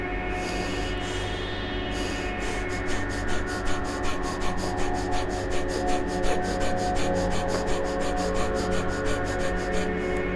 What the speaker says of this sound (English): then we need to inhale, exhale, inhale, exhale, very slowly